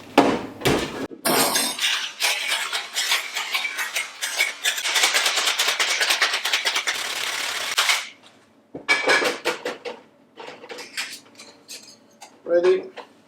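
A bartender shakes a cocktail of mango chutney and syrup in a shaker, producing rapid, loud rattling clatter for several seconds, then scattered clinks of metal and glass. Speech is heard between the bursts.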